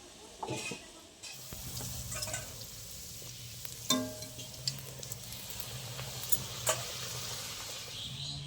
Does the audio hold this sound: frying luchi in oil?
yes